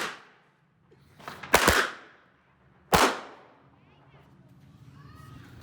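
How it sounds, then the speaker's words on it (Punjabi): Firecrackers explode outdoors in a village setting, with two loud, sharp bangs about a second apart, each echoing briefly, followed by a low background murmur. "ਲਓ ਜੀ 4 ਪਟਾਕੇ ਵਜਾਏ ਨੇ ਪੂਰੇ ਭਾਰਾਂ ਦੇ ਨਾਲ"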